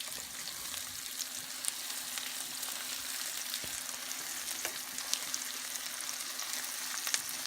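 Onions sauté softly in a pan, a steady, fairly quiet sizzle and crackle with a few small pops and occasional light stirring throughout.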